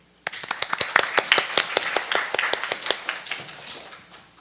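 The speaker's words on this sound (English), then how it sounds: "Let's welcome him with a big round of applause" Scattered applause from a conference audience welcoming a remote speaker to a nuclear nonproliferation session, starting abruptly as a few dozen distinct claps that gradually thin out and fade.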